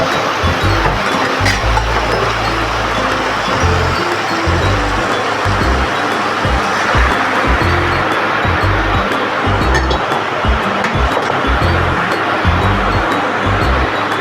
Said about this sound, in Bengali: এবার সিদ্ধ করে রাখা ডালটা ঢেলে দিয়ে কিছুক্ষণ ফুটিয়ে নেব